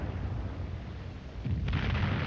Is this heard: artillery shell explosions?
yes